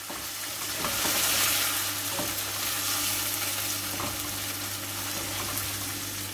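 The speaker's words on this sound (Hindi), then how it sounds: "हम इसमें चिकन ऐड कर देंगे। चिकन को अच्छे तरीके से मिक्स कर लेना है।" Chicken stirred into sizzling ginger garlic paste in a hot pan, a steady close frying hiss with scraping stir strokes throughout, no voices.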